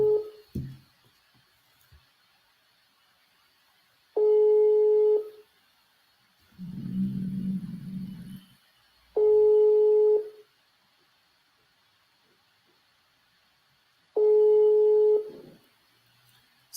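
A phone call fails to connect and gives a busy signal: repeated two-tone pulses of about a second each sound at regular intervals through the line, with a short muffled murmur in one gap.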